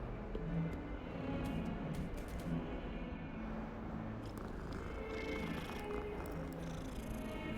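A cat in the Hogwarts Legacy video game purrs softly while being petted, a faint low rumbling hum under quiet background ambience.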